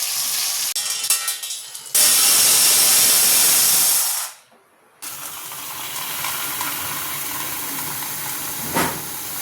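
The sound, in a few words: small fish frying in a pan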